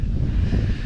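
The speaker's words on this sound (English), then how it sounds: "it is windy outside" A brief burst of wind roaring and buffeting against the microphone outdoors during a drone flight, low and steady.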